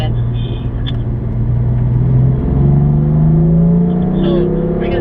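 A car on a race track accelerates hard out of a corner, its engine note rising steadily and loud up close, with a spoken voice running over the engine.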